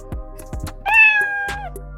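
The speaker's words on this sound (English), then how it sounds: "It's either going to be a pop or meow." Several quick pops followed by a clear, drawn-out Scratch cat meow sound effect, loud and close, with a final short pop after it, no talking.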